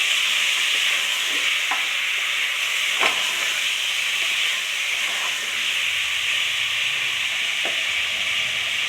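Mutton pieces sizzle steadily in a hot pan on a low flame, a continuous frying hiss with occasional scrapes and clinks as the meat is stirred, close and even throughout with no talking.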